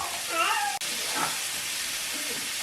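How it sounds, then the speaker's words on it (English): Garlic, pepper and thyme sauteing in a hot pan, a steady broad sizzle and hiss that runs throughout, with a brief voice near the start. "Saute that to get all those flavors up"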